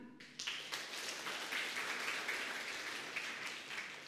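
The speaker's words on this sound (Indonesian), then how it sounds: "Yang ngomong angkat tangan, tepuk tangan." A church congregation applauding steadily during a Sunday service, dense clapping that swells after a brief quiet start and holds a full, even level throughout.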